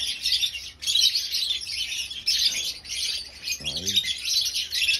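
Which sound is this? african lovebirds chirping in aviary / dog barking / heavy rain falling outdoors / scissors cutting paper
african lovebirds chirping in aviary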